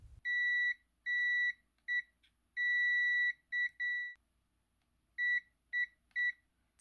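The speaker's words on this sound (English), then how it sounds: "Any of the spots that beep are suitable here." A multimeter's steady electronic continuity tone beeps on and off in short and long bursts, about ten times, clean and alone against near silence, while probing a Sega Nomad's circuit board for ground.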